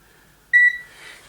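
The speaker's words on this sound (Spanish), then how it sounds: "se pulsa esta tecla varios segundos hasta que se escuche un pitido" A body-composition measuring device gives one clean, sharp electronic beep lasting about a fifth of a second as its Bluetooth is switched on, then a faint hiss, in an otherwise quiet room.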